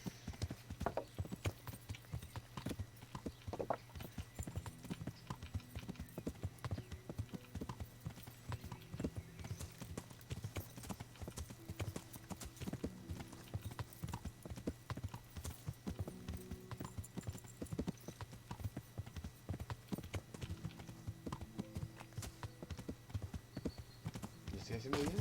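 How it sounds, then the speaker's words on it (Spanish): Horse hooves clip-clop steadily at a riding pace in a video game, a continuous rhythmic patter that stays fairly quiet and even throughout with no voices over it. "así que un ratito a caballo nos vamos a pegar"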